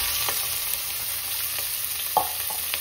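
Chopped onions hit hot oil in a pan and give a steady, close sizzle with no one talking, and a few faint clinks come through it.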